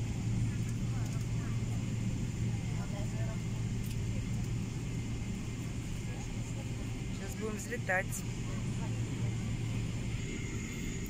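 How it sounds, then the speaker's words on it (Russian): Low steady rumble and hum of a plane rolling along the ground, continuous engine drone with a brief spoken phrase and a faint whining sweep midway. "наш самолетик едет,"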